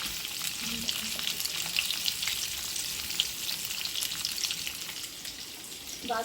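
Small taro pieces frying in an iron kadai, a loud, steady close-up sizzle that barely changes, with a brief faint clink near the end.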